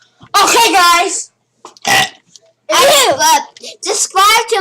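Children in play produce several loud, drawn-out burps in close succession, each a rough gurgling belch of about a second, with brief quiet gaps between them and a voice nearby.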